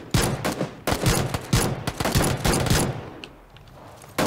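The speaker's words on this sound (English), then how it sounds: "Let's shoot him." Gunfire in the PUBG battle royale game: loud, close bursts of rapid shots in uneven volleys over about three seconds, then a brief lull before another shot.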